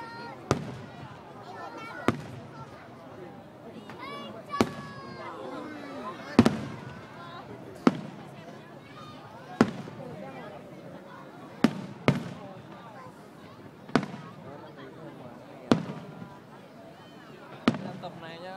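Lunar New Year fireworks thump and boom at regular intervals of roughly two seconds, each sharp burst followed by crackling and a murmur of onlookers in a busy open-air setting.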